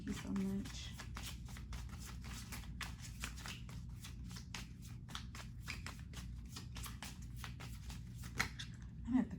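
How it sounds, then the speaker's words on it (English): Tarot cards being shuffled, a steady run of crisp riffling and flicking bursts close by, continuing throughout with no voice over them. "I'm gonna have to cut some of this shuffling."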